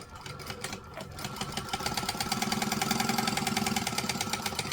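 Sewing machine running steadily as it back stitches a seam on a small garment, a close, even mechanical chatter that grows slightly louder after a brief lighter start.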